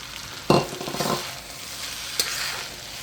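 Scallions tossed into sizzling Thai fried rice with pineapple, basil and cashews in a hot pan, a sharp burst of stirring and frying up close, then a steady sizzle with a second brief clatter.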